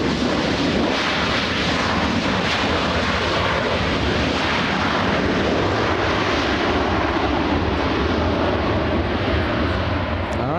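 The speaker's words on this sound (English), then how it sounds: "United 783 flying in from Phoenix." A United Boeing 737-900ER jet arriving at LAX, its engines roaring loud and close in a steady broadband rush that holds for the whole stretch.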